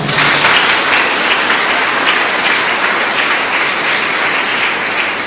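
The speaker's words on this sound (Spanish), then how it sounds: "con este fuerte aplauso" Strong, sustained applause from a church congregation at a live chapel service, dense and loud throughout without any talking.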